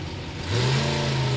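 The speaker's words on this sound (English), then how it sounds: "John Freck, another one of the 4-cylinder cars in competition here this weekend." A 4-cylinder race car engine revs up sharply at a short track, its note climbing and holding at a loud, steady pitch close by after a brief quieter start.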